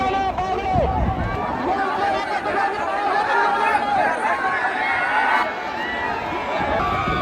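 Dense crowd of spectators at a Rajyapal Kesari wrestling event in Chhatrapati Sambhajinagar, continuous loud chatter, shouts and cheering with a steady babble throughout as wrestlers make their entrance.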